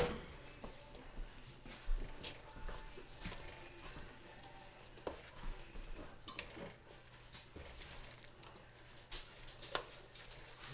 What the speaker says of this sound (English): Just make sure it's nice and stirred up real good.